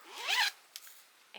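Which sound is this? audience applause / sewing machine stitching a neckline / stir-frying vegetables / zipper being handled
zipper being handled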